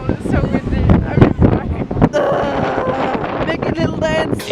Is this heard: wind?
yes